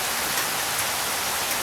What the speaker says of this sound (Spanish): la lluvia ahora comenzó un poquito más fuerte